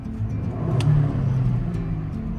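A 2022 Ford Explorer ST's 3-liter engine revs close by, a low rumbling hum that swells briefly in the middle and then settles back to a steady idle-like drone.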